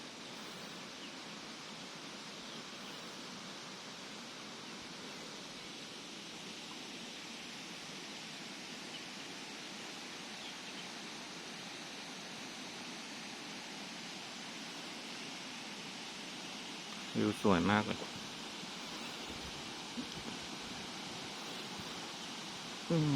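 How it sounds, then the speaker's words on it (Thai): Waterfall at Huai Mae Khamin in Srinagarind Dam National Park, Kanchanaburi, roaring as a steady broadband wash throughout; someone speaks briefly near the end over the rushing water. "เสียงน้ำตกดัง"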